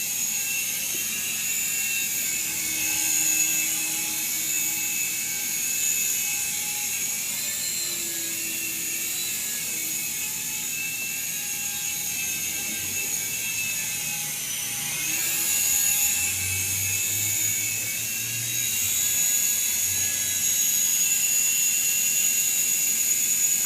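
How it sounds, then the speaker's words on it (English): A Syma S107H altitude-hold toy RC helicopter whines continuously with a high-pitched electric motor buzz, steady and close, rising slightly as it maneuvers. "This would be a great first helicopter"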